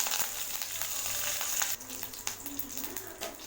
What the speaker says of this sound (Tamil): கருவேப்பிலை வதங்கிடுச்சு